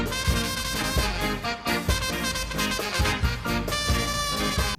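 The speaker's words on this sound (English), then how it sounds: "I'm a huge fan of ska music" Upbeat ska music, a Jamaican style, plays loudly and continuously with punchy offbeat rhythm and full band texture, with no speech over it.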